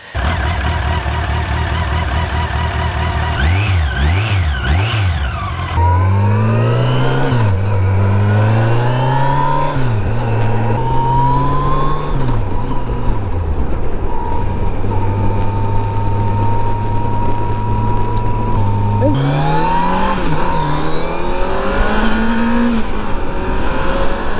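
A Yamaha motorcycle engine revs repeatedly, pitch rising and falling in surges, then settles into sustained high-revving runs, close and continuous throughout.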